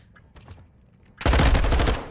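Rapid automatic gunfire erupts from an esports shooter match, loud and sustained after a quieter stretch of scattered shots and faint game noise, continuing for about a second.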